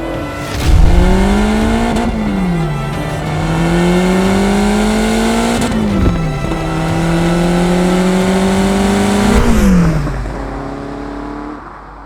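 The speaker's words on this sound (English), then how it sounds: "that's the Lotus Esprit V8" A Lotus Esprit V8 sports car accelerating hard through several gears, its engine note climbing steadily then dropping at each quick upshift, loud and close, before easing off and fading near the end.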